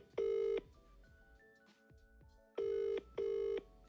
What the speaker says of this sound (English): Ring him live on the show.